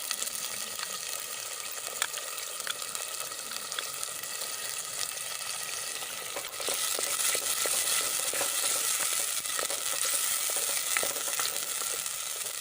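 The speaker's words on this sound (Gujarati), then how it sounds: "આપણી ડુંગળી અને ટમેટાની ગ્રેવી થોડી સંતળાઈ જાય એટલે તેમાં મગદરીની ગ્રેવી ઉમેરી દઈશું" Onion and tomato gravy sautéing in a pan, a steady close sizzle and crackle of frying that runs throughout and grows slightly louder halfway, with no talking.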